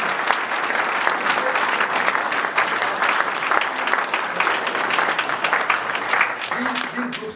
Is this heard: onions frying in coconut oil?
no